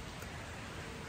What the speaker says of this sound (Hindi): काफ़ी तेज बारिश आ गई है